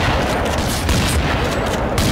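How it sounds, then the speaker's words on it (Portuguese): Dense, loud gunfire in a first-person shotgun video game, a continuous barrage of booming shots and impacts packed tightly together with no clear gaps. "Esse bicho levou dois tiros e não morreu?"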